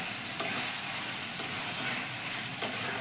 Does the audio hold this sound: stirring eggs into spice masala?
yes